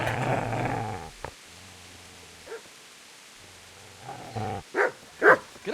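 A dog in Kingdom Come: Deliverance growls low and steadily, then breaks into a few sharp, close barks toward the end, each loud and separated by short pauses.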